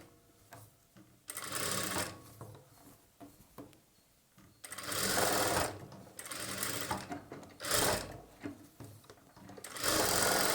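A sewing machine double-stitches a blouse in several bursts of rapid mechanical chatter, close and steady, with brief pauses and handling noise between runs.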